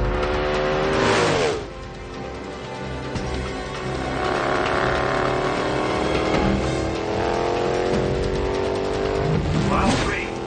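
An Indian motorcycle on a high-speed run at around 170 miles per hour, its engine holding a loud, sustained roar with shifting harmonic whine that swells and dips briefly.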